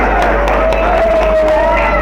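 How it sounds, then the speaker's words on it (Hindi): Crowd applause and cheering at a prize distribution for a high-flying pigeon tournament, a dense steady wash of clapping and murmuring voices lasting throughout, with a sustained whistle-like tone running through it. "तालियों से ज़्यादा इस्तेमाल फरमाएं भाई"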